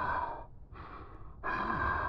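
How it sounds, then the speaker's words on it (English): A phone caller in a horror video game breathes heavily, with three long, close, raspy breaths separated by brief pauses. "Why is he breathing like that?"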